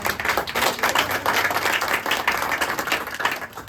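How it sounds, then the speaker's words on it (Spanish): A church congregation gives the Lord a loud round of applause during a Spanish-language service, with dense, steady clapping from many hands lasting several seconds. "Dale un fuerte aplauso al Señor."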